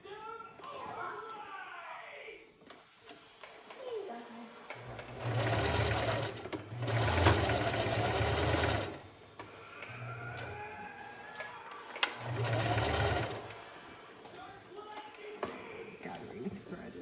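A sewing machine stitches a child's flutter pinafore in several loud bursts of rapid humming, with pauses between runs and soft talk and faint background noise in the gaps.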